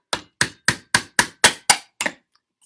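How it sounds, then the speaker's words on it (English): Hammer blows striking a nail through the sealed bottom of a can for a homemade kaleidoscope, eight sharp metallic knocks in a steady rhythm, close and loud, with no talking. "Now I'm going to hammer a hole at the bottom where it's sealed."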